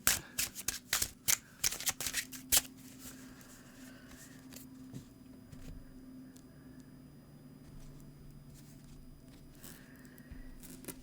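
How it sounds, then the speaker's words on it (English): A deck of tarot cards is shuffled in quick riffling bursts during the first few seconds, followed by softer, quieter card handling and faint rustling. "So I'm going to go ahead and start shuffling"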